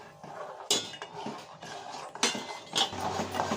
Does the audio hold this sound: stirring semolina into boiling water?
yes